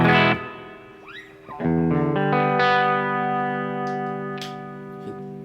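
A clean electric guitar through a Line 6 Helix LX amp modeler rings out in sustained chords and a few picked notes, bathed in a smooth plate-style reverb, played alone and fairly loud.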